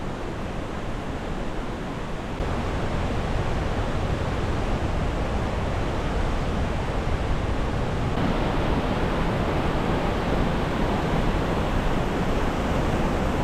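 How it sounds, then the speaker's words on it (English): Waterfall at Wahclella Falls in the Columbia River Gorge, water pouring down all along a ridge in a steady, loud, broadband roar, continuous and close with no talking. "Just all along this ridge there's water coming down."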